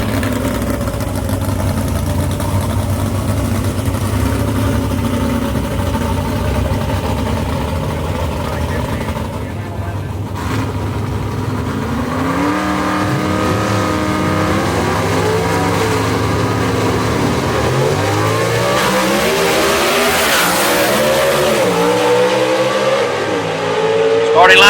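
A 1949 Studebaker gasser drag car runs at Knoxville Dragway, engine rumbling at idle before loud rising revs and a launch, with an announcer talking over much of it.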